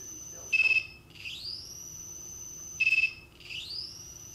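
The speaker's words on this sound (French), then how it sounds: "à chaque signal émis, on entend les signaux reçus par le récepteur avec le buzzer" An Arduino 433 MHz receiver's buzzer sounds on each received radio signal: two short electronic buzzer bursts, each followed by a rising tonal chirp, repeating about two seconds apart against a quiet background.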